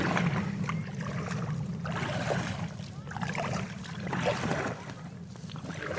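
An Intex Challenger K1 inflatable kayak glides across a lake, with paddle splashes and water swishing in an uneven rhythm against a constant soft wind, close by and moderately loud.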